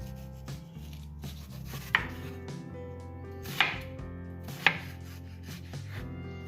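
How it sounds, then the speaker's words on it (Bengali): Watermelon is cut into small pieces with a knife, giving a few quiet, widely spaced chops, three of them sharper knocks against the board, over a low background hum. "এখানে আমি প্রয়োজন মতো তরমুজ ছোট ছোট পিস করে কেটে নিচ্ছি।"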